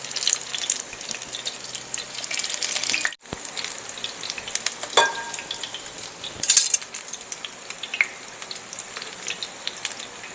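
Battered homemade onion rings sizzle steadily in hot oil, close and fairly loud, with a few crackles and clinks as they are turned over.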